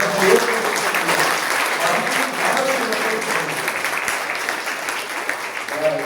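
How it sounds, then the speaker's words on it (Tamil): An audience at a school science club event claps loudly and continuously, a dense wash of many hands with no pause, and faint voices mixed into the applause. "ஒரு பலத்த கைத்தட்டல் மூலம்"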